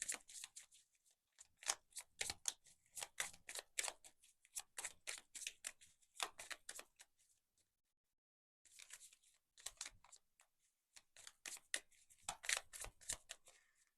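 Tarot cards are shuffled by hand in quick bursts of crisp, riffling flicks, close and clear in a quiet room, with a brief silent pause midway before the shuffling resumes.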